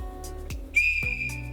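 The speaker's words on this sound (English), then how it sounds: "emergency whistle." An emergency whistle carried for hiking gives a single short, piercing blast, loud and close, after a couple of quieter knocks.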